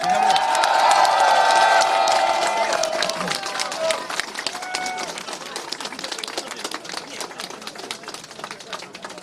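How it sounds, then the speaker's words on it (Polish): A crowd at an outdoor campaign meeting in Strzelin claps and cheers while a few voices ring out over it, loudest at the start and gradually thinning into scattered clapping. "Wielkie brawa!"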